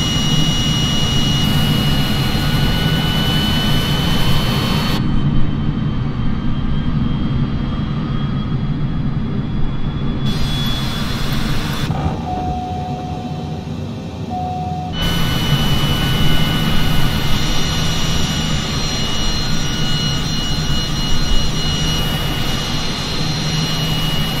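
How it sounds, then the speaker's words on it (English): A jet airliner's engines roar during takeoff from runway 13 right at JFK, New York, a loud continuous whine and rumble heard close up from on board, steady throughout with brief shifts in tone. "Cleared for takeoff runway 13 right"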